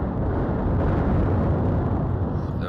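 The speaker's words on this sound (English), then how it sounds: "that's a bad place to drop torpedo depth charges" Depth charges explode underwater in the naval war game Atlantic Fleet, producing a dense, continuous roaring rumble that stays loud and heavy for the whole stretch before easing slightly at the end.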